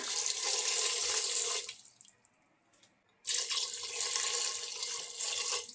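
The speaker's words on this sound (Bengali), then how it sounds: "আমি এখানে এক লিটার মতো পানি দিয়ে দিলাম" Water gushes into a pressure cooker holding beef for a Peshawari beef dish, a loud splashing pour that breaks off briefly for about a second, then resumes strongly.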